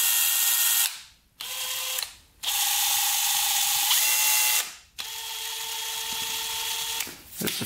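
A power drill whirs in repeated bursts, spinning bent intake valves from a broken quad, with clicking, rattling wobble from the chucked valve stems and short pauses between each run.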